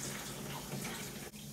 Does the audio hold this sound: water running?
yes